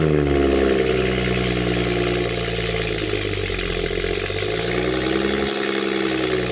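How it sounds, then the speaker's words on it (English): A BMW 335i with the N55 engine and a VRSF catless race downpipe cold-starts and idles high, a loud, steady, raspy exhaust drone close by that settles slightly lower near the end. "VRSF Catless race downpipe, N55 cold start."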